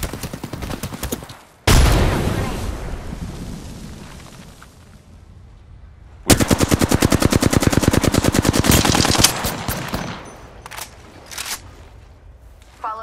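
Rapid machine-gun bursts ring out in a video game, the first long and dense, a second hammering rhythmically for several seconds, then scattered shots trailing off.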